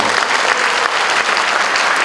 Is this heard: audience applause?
yes